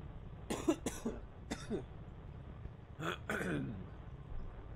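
A few sharp coughs come close and fairly loud, in two clusters separated by a short pause, with quiet room background and no speech.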